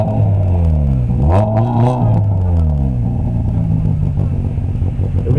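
Two Russian cars, a Lada Kalina and a VAZ-2108, rev their engines loudly at a race start, the rising and falling engine tones overlapping with a steady rumble and no talk.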